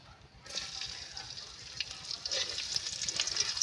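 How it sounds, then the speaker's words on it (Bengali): Garlic sizzling in a pan of leftover fish frying oil while cooking a rohu fish and Malabar spinach curry, a steady hiss that rises slightly louder after a quiet start, with no talking. "এবার এই মাছের তেলে কিছুটা তেল দিয়ে আমি রসুনটা দিয়ে দেবো"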